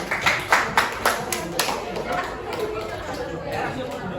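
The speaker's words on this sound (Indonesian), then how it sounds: "tepuk tangan buat teman kalian semua ya" Classroom students clap for classmates after a role-play session, with a few distinct loud claps at first that blur into looser, fading applause under lively chatter and talking.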